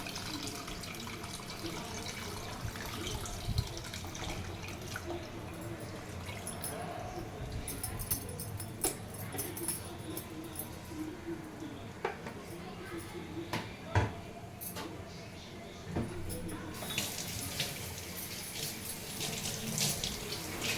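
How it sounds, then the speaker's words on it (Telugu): Tamarind water poured into a bottle gourd curry in a kitchen, a steady watery splashing and running sound under faint background noise, with brief clinks along the way. "ఇప్పుడు మనం ఇందులోకి పులుసు పోసుకుందాము."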